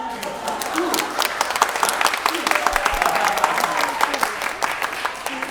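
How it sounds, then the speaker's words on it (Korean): A church retreat group bursts into lively applause, sharp individual claps standing out over a continuous crowd clapping, fairly loud and close, with a faint voice or tone briefly underneath. "박수 한번 주시죠"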